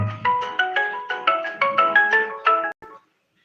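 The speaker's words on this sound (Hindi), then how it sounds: "उसका अजीब रिंगटोन है" A phone ringtone for an incoming call plays a loud, close melodic pattern of quick repeated electronic tones, looping several times before stopping abruptly near the end.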